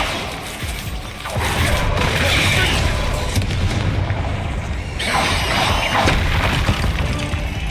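A Bombarda spell explosion in the video game Hogwarts Legacy, a loud booming blast with crashing debris that swells after a second and bursts again near the end, under dense game sound.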